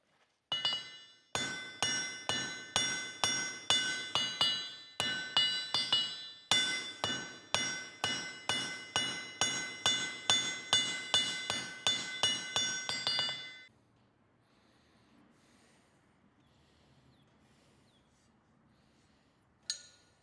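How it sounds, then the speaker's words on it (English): A big hammer strikes cold metal in a blacksmith shop, ringing blows landing in a fast steady rhythm of about two dozen hits in short bursts, then quiet with one last clank. "when I can smash it with the big hammer, I'm smashing it with the big hammer"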